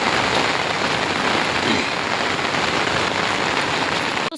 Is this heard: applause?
no